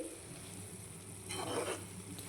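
Potato curry cooking in oil in a pan, a soft steady sizzle that swells briefly into a louder frying crackle midway, faint and close, with no talking.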